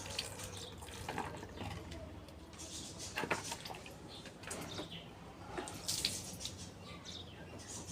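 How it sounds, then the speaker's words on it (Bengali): A mango is washed under a running tap, with a steady soft stream of water and faint splashing heard at low level, along with some background voices and birds. "আমটা ধুয়ে নিই"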